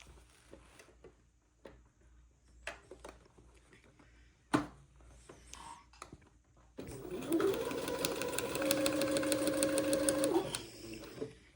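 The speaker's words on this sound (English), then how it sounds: "And sew right up here where the shorter of the two pocket" Sewing machine stitching up a pocket bag for an Eton suit, starting after quiet handling and rustling with one steady, fairly loud whirring run of several seconds near the end.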